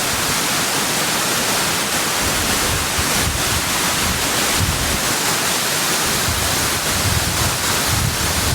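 Achankallu waterfall pours down in a loud, continuous close roar, mixed with heavy wind buffeting the microphone throughout, with no voices.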